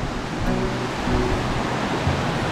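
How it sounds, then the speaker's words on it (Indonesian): Madakaripura waterfall near Probolinggo, reached on a cross-country bike ride, gives a steady broadband roar of falling water that holds level throughout with no voices. "Nih air terjunnya, air terjun yang utama ini."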